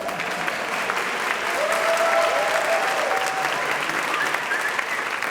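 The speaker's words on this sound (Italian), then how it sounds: "Applausi." Applause at a civil union ceremony: a room full of guests clapping steadily and loudly for several seconds, with a few voices murmuring underneath.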